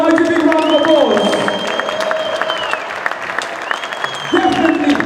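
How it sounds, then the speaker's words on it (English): A crowd at a futsal league awards event gives a loud, sustained round of applause with some cheering, while a tonal sound sweeps through and an amplified voice talks over the clapping. "give him another mighty big round of applause"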